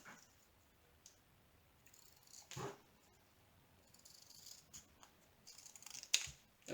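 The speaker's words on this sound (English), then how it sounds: "These are my stronger scissors, so they cut the canvas much better." Strong scissors snip through diamond painting canvas in a few short, crisp cuts spaced apart, quiet and close, with small handling rustles between them.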